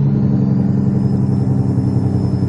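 A heavy truck engine in American Truck Simulator drones steadily at a low, loud rumble, held at an even pace with no voices.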